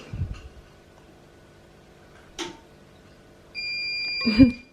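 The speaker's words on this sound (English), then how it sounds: "I think the washing machine's about to be done. The wait for it to beep." A washing machine sounds a short electronic beep as its cycle finishes, faint and indoors, after a few quiet bumps of household activity.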